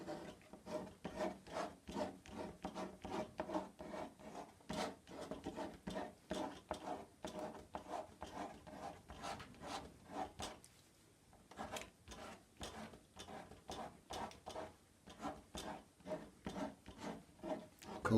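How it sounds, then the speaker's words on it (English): An old plastic credit card scraping across watercolour paint on paper to texture a dry stone wall, giving steady repeated rasping strokes in a quick rhythm, close and fairly quiet, with a short pause partway through. "And now here's an old credit card. And all I'm doing is just scraping."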